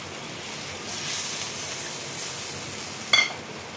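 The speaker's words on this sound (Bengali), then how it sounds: "এরপরে আমি তরকারিতে জল দিয়ে দেবো।" Water poured into a simmering rui fish curry with poppy seed paste, giving a steady soft sizzle and hiss, with a brief sharper splash and crackle near the end.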